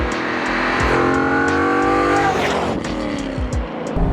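A V8-swapped Mazda Miata drives hard up close, its engine droning and revving through gear changes with rising and falling tones, while tires squeal briefly as it corners.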